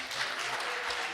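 Audience at a live music show clapping and applauding in a steady, dense wash of hand claps, moderately loud and continuous throughout the brief moment.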